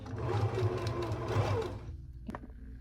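A sewing machine stitches the side seam of a dress top, a rapid close mechanical whir that runs steadily and then stops, followed by a faint click.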